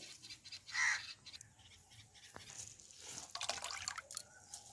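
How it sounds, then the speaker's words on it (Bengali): Water squeezed from grated red potato drips and trickles into a container, with a brief splash then scattered soft drips and wet rustling from handling, close and faint, without talk. "লাল আলুটা খুব ভালো করে চেপে নিলাম, জলটাই বের করে নেবো।"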